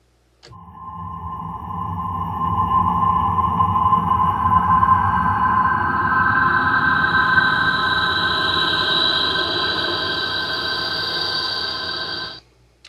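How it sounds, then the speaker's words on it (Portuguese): Grand piano from a virtual instrument, processed with an Omnisphere spatial effect, plays a sustained, shimmering synthetic-sounding texture that rises in brightness partway through, loud and steady for about twelve seconds with no talking. "E eu utilizei o efeito do Omnisphere, que é esse efeito que dá essa sensação espacial aqui."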